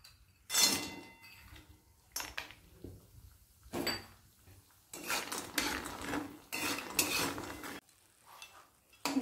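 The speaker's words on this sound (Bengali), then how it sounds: "বড়িটা এবার অন্য পাত্রে তুলে রাখছি" Fried lentil dumplings (bori) being lifted out of hot white oil and moved into another pot, with a series of bright metal utensil clinks and scrapes against cookware in separate bursts, close and fairly loud, with no talking.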